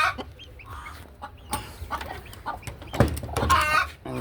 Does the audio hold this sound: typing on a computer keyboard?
no